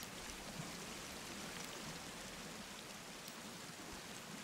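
Steady rain patters continuously on surfaces in the Sons Of The Forest survival game, a dense, even hiss with no talk over it.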